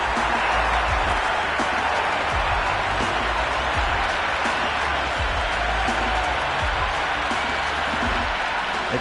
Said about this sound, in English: The crowd are loving every minute of this match.